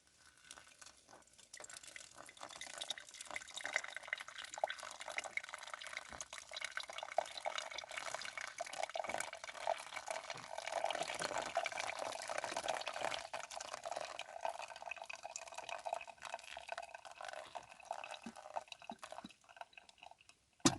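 Water is poured into a container from outside a minivan camper, a soft trickling and splashing that runs steadily for about twenty seconds, close by and fairly quiet, with faint crinkling.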